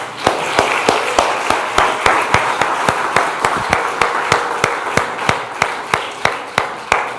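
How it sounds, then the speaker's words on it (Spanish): A church congregation claps in unison, producing sharp, evenly spaced beats about three per second, loud and close, over a soft bed of scattered clapping and room murmur. "Denle un aplauso al Señor, por favor"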